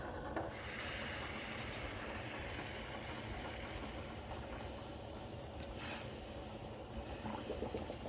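Chaga mushroom tea boils in a pot, making a faint, continuous hiss and soft bubbling that stays even throughout with no voices.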